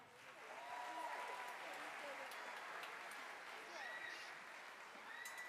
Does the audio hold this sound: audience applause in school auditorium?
yes